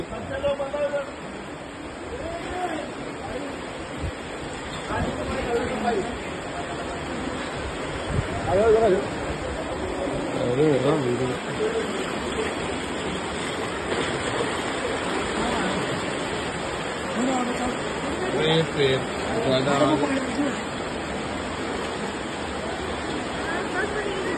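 Water gushes hard at a shop with a strong, continuous splashing rush, while a crowd murmurs and voices talk throughout.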